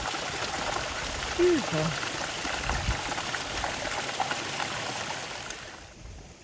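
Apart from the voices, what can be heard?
small mountain creek flowing on John Muir Trail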